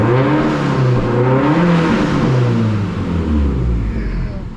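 A Subaru STi fitted with a big turbo and new exhaust revs loudly up close, its engine note climbing and falling through several throttle blips with a deep, rumbling tone and turbo whir.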